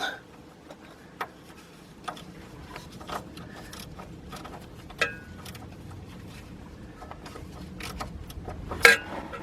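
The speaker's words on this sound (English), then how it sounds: "what I got here is my 3/8 drive stubby ratchet and got my adapter on it" A 3/8-inch drive stubby ratchet with an adapter turns a bolt during power steering pump work on an Infiniti I30/I35 or Nissan Maxima, giving faint, scattered mechanical clicks over low background noise.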